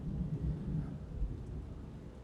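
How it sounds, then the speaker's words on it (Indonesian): Low, rolling thunder rumbles steadily through a storm, a dense bass roar with faint rain beneath, swelling and easing without a sharp crack. "kalau dengar petir begini, ya, guludug"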